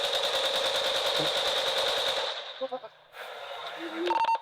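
Gunshots in a Jamaican movie: a loud, rapid burst of automatic gunfire for about two seconds, followed by scattered single shots and short clatters as the volume drops, with no talk over the firing.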